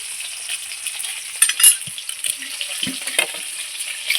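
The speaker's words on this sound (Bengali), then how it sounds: "দেখুন, খুব সুন্দর লাল লাল করে ভেজে নেব মাছটাকে।" Snakehead fish frying in oil, a steady close sizzle with a few soft clinks and scrapes from a utensil.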